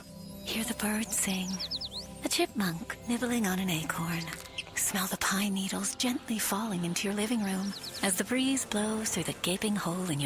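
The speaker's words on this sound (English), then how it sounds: "Hear the birds sing." Birdsong from a radio advertisement's mock guided meditation: a few short, faint chirps and tweets rise briefly beneath a calm, continuous spoken voice.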